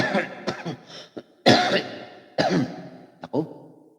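A person coughs in several separate bursts, some harsh and some shorter, close up with short pauses between, and a little throat clearing mixed in.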